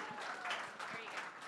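An audience applauding at a startup pitch event in a tech village, dense steady clapping from a crowd throughout, with voices mixed in under it.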